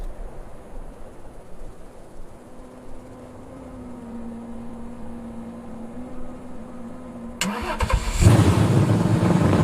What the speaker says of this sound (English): Engine starts with a deep rumble.